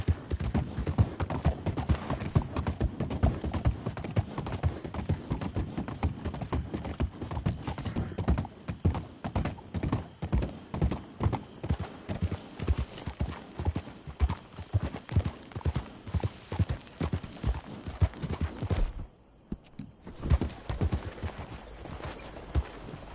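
Steady clip-clop of horse hooves in the Red Dead video game, a fast, close, continuous rhythm that carries on for over twenty seconds and breaks off only briefly near the end.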